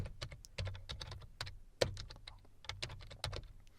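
Quiet, close clicking of computer keyboard keys as a PowerShell command is typed, in uneven quick bursts with short pauses between key runs.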